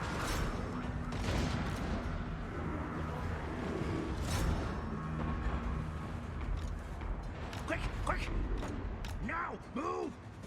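Artillery fire and battle clamor in the Total War: Warhammer 2 strategy game, with repeated booming shots, whooshes and mechanical creaks over a dense din, ending with a few sweeping whistles.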